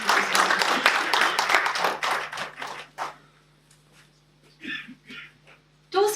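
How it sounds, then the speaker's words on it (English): Audience applauding a Toastmasters speaker at a club speech contest meeting: dense clapping for about three seconds, fading to scattered claps, then a few brief isolated bursts of clapping. "Please give a big round of applause for Toastmaster."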